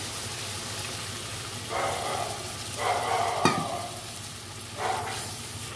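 Milk is poured into a hot pan of cooking food, bringing on bursts of sizzling over a steady frying hiss, with a sharp clink of a utensil partway through.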